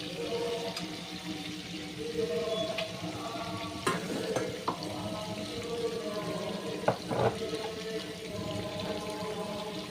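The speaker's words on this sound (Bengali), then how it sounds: "আলুগুলোকে ভাজা করছি।" Potatoes fry in a pan for a Bengali tengra fish curry with potato and eggplant, giving a steady low sizzle with scattered sharper pops and clinks of stirring, close and moderately loud throughout, with no talking.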